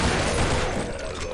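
Rapid gunfire from Counter-Strike Online zombie mode, a close burst of overlapping shots with a quick decaying tail, heard briefly without speech.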